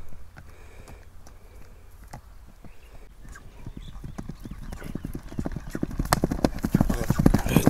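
A spirited young sport colt gallops on firm ground, its hooves clip-clopping in a quick rhythm that grows louder as it comes closer, with an occasional snort and voices faintly in the background.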